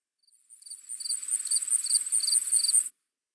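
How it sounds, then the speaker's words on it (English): Crickets chirp in a radio-play night scene, a steady high trill with pulsing rhythm that swells in and then cuts off abruptly, close and clear with no talk. "Listen, the crickets have stopped."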